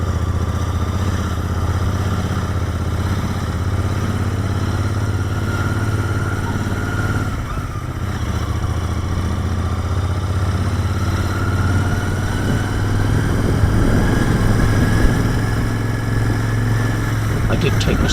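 Engine of a 2019 Royal Enfield Interceptor 650 fitted with a K&N air filter, a loud, steady, close-up motorcycle drone with a low throb holding throughout, rising slightly toward the end.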